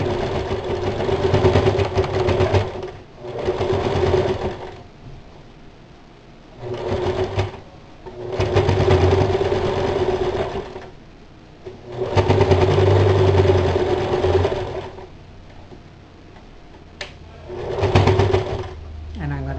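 A sewing machine stitches a festive holiday apron in several bursts of steady whirring, starting and stopping repeatedly over the span, with people talking between the runs.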